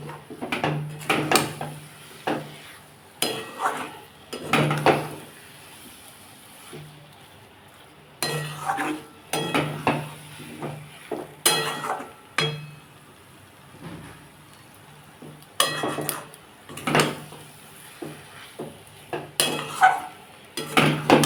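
Bengali chana dal halwa is stirred in a pan. A spoon scrapes and knocks against the metal in repeated bursts separated by short pauses, close by and moderately loud.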